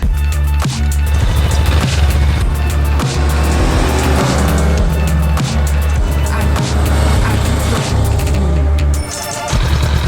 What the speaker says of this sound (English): let's go get on a bike. I call the Ducati Scrambler.